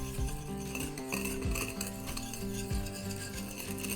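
A utensil stirs peach cobbler batter with baking powder in a bowl, giving steady scraping and clinking throughout with no talk.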